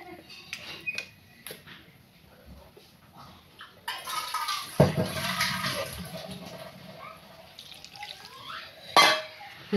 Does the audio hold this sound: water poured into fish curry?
yes